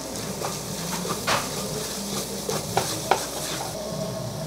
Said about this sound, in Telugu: టమాటా, ఉల్లిపాయ అంతా పచ్చివాసన పోయే వరకు బాగా వేయించుకోవాలి